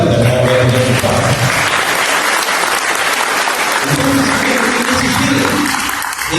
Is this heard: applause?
yes